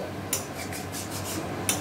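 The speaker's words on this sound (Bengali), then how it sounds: "সব সবজির সাথে একটু ভালোভাবে নেড়ে মিশিয়ে দিয়ে" Vegetables with a little sugar being stirred in a pan for ridge gourd and prawn curry, a spatula rubbing and scraping in several soft, close strokes with two brighter metallic clinks, no voices.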